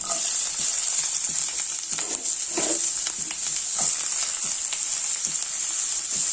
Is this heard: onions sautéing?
yes